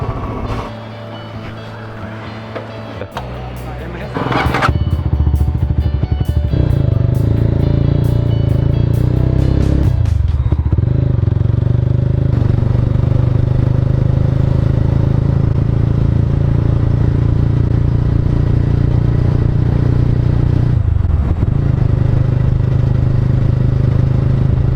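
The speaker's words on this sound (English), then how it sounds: "So I'm riding the Mahindra Mojo." A Mahindra Mojo motorcycle on a test ride: after a quieter start the engine rises to a loud, steady drone, with rushing wind and shifts in pitch as the rider changes speed.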